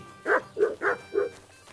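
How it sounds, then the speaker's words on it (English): A dog in the medieval video game Kingdom Come: Deliverance 2 gives four quick, close barks in a short burst over low game ambience. "Silly doggy."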